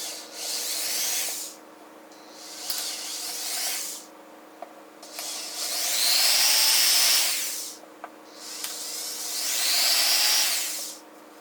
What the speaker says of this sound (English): we can move on to a bigger drill bit so we can drill these out and so we can pop out the emblem